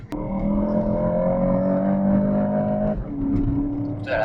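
A car on a race circuit, engine droning close and loud with a steady rising pitch, then a gear shift cuts in near three seconds and the note drops before climbing again.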